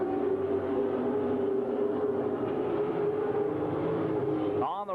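Late model stock cars roar around the Langley Speedway oval in a dense, continuous engine drone, with a commentator talking over the noise and a car's pitch sweeping past near the end.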